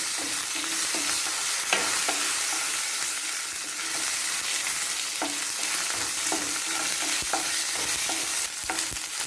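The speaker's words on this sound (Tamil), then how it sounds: "தக்காளி கொஞ்சம் வேறு வரைக்கும் கொஞ்சம் நேரம் வதக்கணும்." Tomatoes sauté in a hot pan with a loud, steady sizzle, punctuated by repeated soft scrapes of a spoon stirring them, close and continuous throughout.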